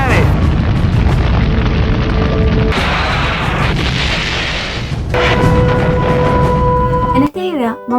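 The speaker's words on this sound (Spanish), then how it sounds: "La moneda está siendo bombardeada, los tanques están disparando con sus bombas." Tanks fire and bombs explode as Chile's La Moneda palace is bombarded during the military coup: loud, dense booms and rumbling blasts form a continuous barrage, with a voice speaking over it.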